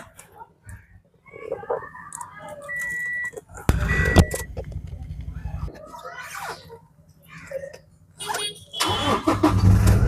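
A 2019 Toyota Innova Crysta 2.4 G diesel fires up on a single crank, a sudden loud mechanical rumble that settles into a clattery idle, while someone talks nearby between quieter moments.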